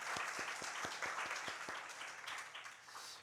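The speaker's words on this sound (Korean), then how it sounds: "우리 하나님께 감사의 박수 한번 올리겠습니다." A congregation claps during a Sunday church service, a brief burst of applause that starts with a few distinct separate claps and then blends into a softer, fading patter.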